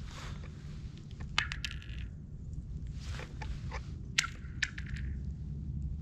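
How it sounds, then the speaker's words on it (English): A rock thrown onto frozen lake ice at Codorus State Park, Pennsylvania, giving a few sharp impact cracks followed by ringing, descending pew-like zings, repeated several times over steady outdoor background noise. "you get a real like cool sound when you throw a rock out onto the ice"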